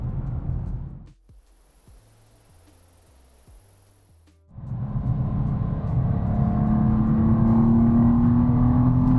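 A BMW M2 Coupe prototype with a manual gearbox drives by, its engine loud and close, then a near-silent gap with faint stepped tones, before the engine surges back and revs climb steadily.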